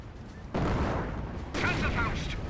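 Artillery barrage in the video game Company of Heroes 1, a commando decoy barrage during a multiplayer match; dense rumbling explosions in two heavy bursts, loud and continuous, with a commentator's voice talking over the game sound.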